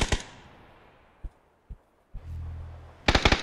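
Gunfire in the PUBG video game: a burst of loud shots at the start, a few isolated single cracks, then a rapid cluster of close shots at the end, with a low hum in between.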